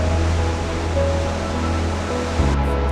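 Iguazu Falls roars as a steady, dense wash of falling water, loud and continuous, with a deep low rumble throughout and no voices.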